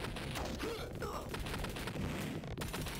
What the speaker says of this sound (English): It just makes the explosions more sick